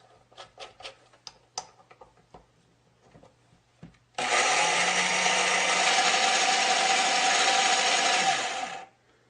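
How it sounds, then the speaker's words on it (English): A battery saw powered by an old 6-amp battery charger from 1980, used for table saw blade sharpening, gives a few light clicks and knocks, then starts up and runs with a loud, steady whir for about five seconds before cutting off. No one talks. "I can just hook up my battery charger, which is just an old 6 amp one from 1980, and that powers the saw"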